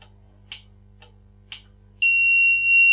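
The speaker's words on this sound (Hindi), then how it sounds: "39 साइकिल्स के बाद बल्ब ऑन नहीं हुआ, इसलिए फॉल्ट शो हो गया और आपका बजर एक्टिवेट हो गया" Electronic fault buzzer on a bulb life-cycle tester with a down counter: faint clicks tick at regular intervals, then a loud, steady, high-pitched tone starts and holds unbroken to the end.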